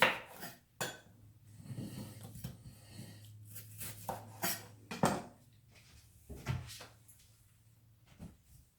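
Glass Pyrex dish and other kitchen items handled on a counter while peppers are prepped, scattered close clinks, knocks and scrapes at an uneven pace over a low steady hum.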